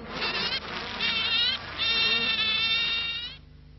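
A swarm of honey bees held in a bucket gives a dense, continuous buzzing hum, close and steady for over three seconds with slight wavering in pitch before it abruptly drops away.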